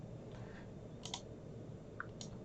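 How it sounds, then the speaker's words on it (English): A few faint, scattered keystrokes on a computer keyboard while entering a server address, soft isolated clicks over a quiet room hum with no talking. "I'm going to be typing in this address"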